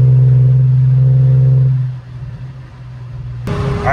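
A Mercedes W210 daily driver, in manual mode in third gear, holds a loud steady engine drone that eases off partway through, then surges again near the end as the car pulls hard.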